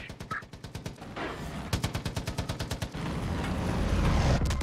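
Rapid automatic gunfire and rocket blasts from the Far Cry 5 video game, a fast train of sharp shots in two bursts followed by a sustained rumbling roar, with no talk over it.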